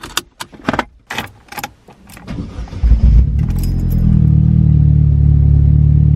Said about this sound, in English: so we're now in the car and we've turned it on